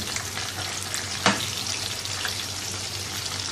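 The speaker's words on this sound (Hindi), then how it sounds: "ये देखिए चिकन फ्राई हो गया" Chicken pieces frying in hot oil, a continuous dense crackling sizzle heard up close, with one brief sharp knock partway through and no voices.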